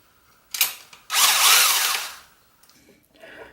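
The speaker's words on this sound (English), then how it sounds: "To speed things up, I used a little mini snap-on gun." A small Snap-on impact gun removes valve cover bolts on a 1995 GSX engine, with a short burst followed by a longer loud whirring rattle of about a second, then a faint tail and quieter handling sounds.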